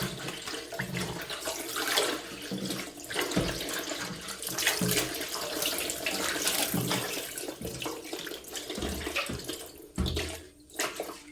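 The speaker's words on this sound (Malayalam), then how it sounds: "അതുകൊണ്ട് നമ്മൾ നല്ലതുപോലെ ഒന്ന് കഴുകി വൃത്തിയാക്കി എടുക്കണം" Running water splashing continuously as leaves are washed clean by hand, with irregular splashes and sloshing close by, no talking.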